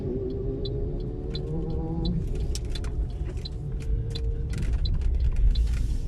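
A car drives along a city street in Dąbrowa Górnicza with a steady low rumble from inside the cabin, while a soft, regular ticking repeats throughout.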